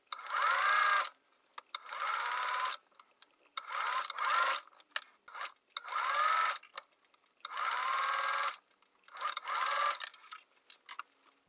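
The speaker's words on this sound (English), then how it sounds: "I'm going to sew these darts." Short repeated runs of a sewing machine stitching darts on a flat cap, about six bursts of whirring stitches broken by brief pauses, moderately close and fairly quiet.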